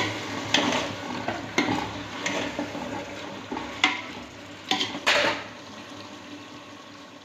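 Biryani masala with mint and coriander being stirred in a pot for an Ambur-style country chicken biryani, with a soft sizzle under repeated scraping and clacking strokes of a spoon against the pot, close and moderately loud.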